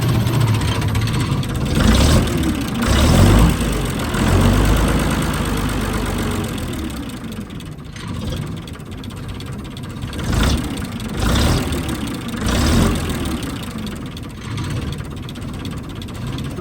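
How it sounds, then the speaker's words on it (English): A Leyland Royal Tiger Worldmaster bus diesel idles with a deep, rough knocking rumble, then revs up and falls back several times, loud and close. "Want to hear a little rev?"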